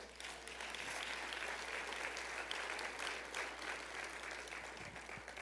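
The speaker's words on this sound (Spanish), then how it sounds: "Denle un aplauso al Señor." A church congregation at Templo El Calvario claps together after the Lord's Supper service, a steady, even wash of applause held at a fairly faint level across the whole stretch.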